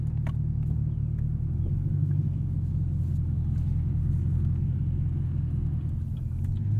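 Steady low engine rumble from a 2022 Chevrolet Camaro ZL1 1LE with a 10-speed automatic, heard from inside the cabin while driving on the road, continuous and fairly loud with a constant drone and no talking.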